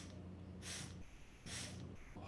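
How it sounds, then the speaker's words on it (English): Quick nasal sniffs drawn in during a yoga-style breathing exercise, two short breathy bursts close up against a low steady hum, with no talking. "Inhaling in 4 sniffs through the nose."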